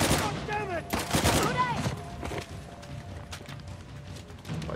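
Bursts of gunfire crack in quick succession from a drum-loading shotgun in the video game Uncharted: The Lost Legacy, loud and close at first, then thinning to scattered shots, with a voice shouting over them.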